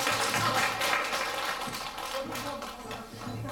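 Sustained applause from a crowd at a birthday party event for a singer, a dense wash of clapping that carries on steadily throughout.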